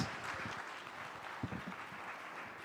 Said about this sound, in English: let's raise a toast and have a huge round of cheer for the men out here as well